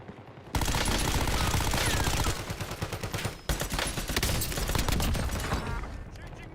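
Automatic gunfire from a video game weapon with heavy recoil, a loud, dense burst of rapid shots starting abruptly and running almost continuously for about six seconds, with a brief pause in the middle and no talk.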